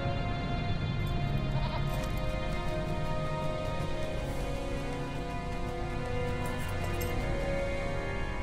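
A goat bleats in the fantasy online game LOTRO, heard within dense, constant game ambience and background music.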